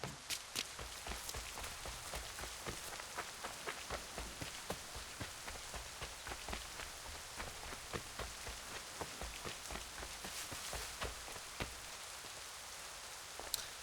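Steady rainfall patters densely across surfaces in the Assassin's Creed 3 video game, with rhythmic footstep-like thuds running through the hiss and no talking.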